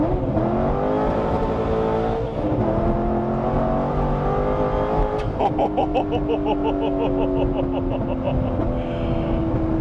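A C6 Corvette Z06 with its LS7 engine pulls hard under acceleration, loud and close from inside the car, with rising harmonics and a gear change partway through before the revs climb again.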